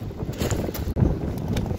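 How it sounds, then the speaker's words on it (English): Strong wind of about 50 mph, gusting from the north on the Norfolk coast, buffets the microphone with a constant roaring rumble and gusty swells, no voices present. "got a savage wind blowing today, 50 mile an hour, gusts from the north"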